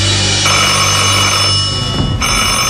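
A telephone rings insistently, its bright electronic trill repeating for nearly three seconds, loud and close with no talk over it.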